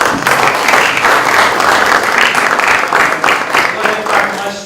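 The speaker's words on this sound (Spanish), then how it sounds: "Esta vez a salva de palmas." A conference audience applauds at the end of a Passivhaus workshop session, dense, sustained clapping filling the room steadily from start to finish.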